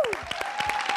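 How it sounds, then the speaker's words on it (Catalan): Audience applause for a band on a Catalan-language TV programme: a short, steady patter of claps with a sustained tone running underneath. "Un aplaudiment per a ells"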